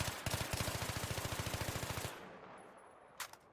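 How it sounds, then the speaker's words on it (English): Rapid automatic gunfire in Battlefield 3 fired in burst mode, a loud, tightly spaced string of roughly twenty shots for two seconds, then a fading tail and a couple of distant impacts. "she started firing in a burst mode"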